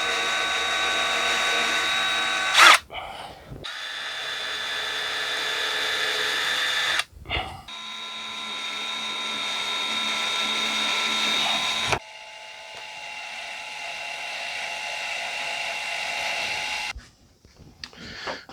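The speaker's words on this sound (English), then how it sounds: "So let me get these holes drilled." A power drill bores small pilot holes in a wooden dinghy hull, whirring in several sustained bursts separated by short pauses and clicks, loud and close.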